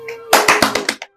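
Applause welcoming performers at the Spring Festival Gala comes as a quick run of about six sharp, loud handclaps that ends abruptly, with no voices.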